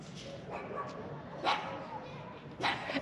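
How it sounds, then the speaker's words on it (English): A chihuahua gives a few short, distant yaps, with a couple of brighter bursts standing out over steady outdoor background noise in Los Angeles. "That cat is like preying on that dog, that chihuahua."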